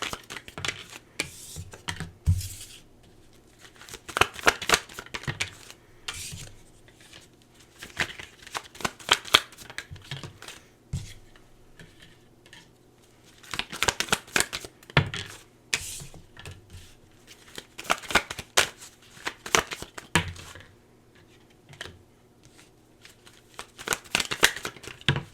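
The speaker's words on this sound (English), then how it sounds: "Give me a moment to pull some cards for you here." Tarot cards being shuffled by hand, repeated bursts of rapid riffling and flicking, close and crisp, in clusters separated by short quiet pauses.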